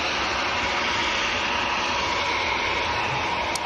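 An EasyJet jet airliner at Manchester Airport, a steady broad engine roar heard from a distance, unbroken and even across the few seconds with no voices.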